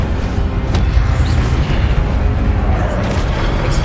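A fire spell cast in the video game Hogwarts Legacy bursts into a loud, dense roar of booming blasts and crackling flame, rumbling continuously without pause.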